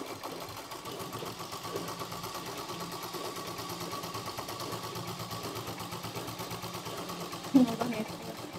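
Sewing machine stitching a blouse, a fast, steady mechanical clatter running close and continuous throughout, with a brief knock near the end.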